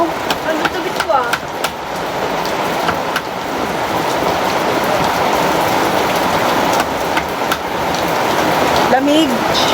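Steady heavy rain pouring down, a constant close hiss with a few scattered knocks and brief voices faintly underneath.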